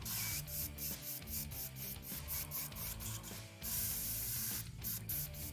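An airbrush spraying acrylic miniature paint hisses steadily and closely, a broad continuous spray with brief interruptions as the trigger is released and pressed again.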